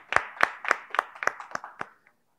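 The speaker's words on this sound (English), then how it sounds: "Let's give Vida another round of applause." Eight or nine sharp, evenly spaced claps in a steady rhythm at a prize draw event, close and clear, tapering off near the end.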